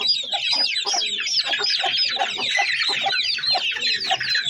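Dense, continuous high-pitched cheeping from chicken chicks, with lower pulses from a pigeon repeating steadily underneath, close and loud.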